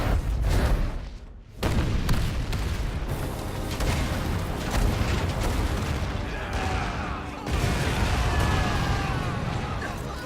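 Continuous booming cannon fire and explosions in Valkyria Chronicles 4, dense and loud, with a brief dip before the barrage resumes.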